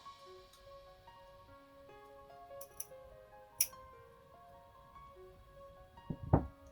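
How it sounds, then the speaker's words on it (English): Scissors snip beading thread while making seed-bead stud earrings, with a couple of small crisp cuts and a sharper final snip, all quiet and close over faint steady tones. "And now it's time to cut the thread."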